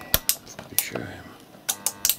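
A 220V automatic voltage regulator switches on and its delay relay clicks, giving a quick series of sharp, close mechanical clicks with short gaps between them.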